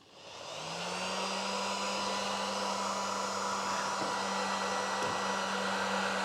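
A Virutex AG98F edgebander's heater blower starts up and then runs steadily as a close, constant hair-dryer-like whoosh with a low hum underneath, with no talk.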